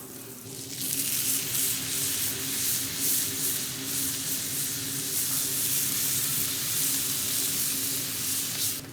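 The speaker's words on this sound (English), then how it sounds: "we'll throw the butter on, we're gonna transfer the steaks over, sear them off" Wagyu ribeye steaks searing in butter in a hot pan, giving a loud, close, continuous sizzle that starts abruptly and crackles steadily without pause.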